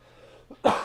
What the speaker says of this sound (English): we got a wicked cough